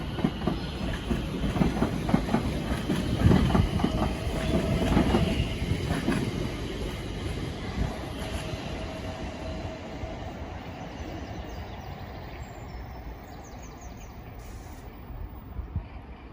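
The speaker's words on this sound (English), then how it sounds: "here we have departing 710268 bound for Watford Junction" A London Northwestern Railway class 710 electric train pulls away from a station bound for Watford Junction, its wheels clattering loudest early on, then fading into a softer rumble as it draws away.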